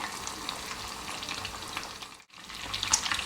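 Chicken fillets fry in a pan of hot oil over moderate heat, a steady close crackling sizzle with a brief dip in the middle before the bubbling resumes.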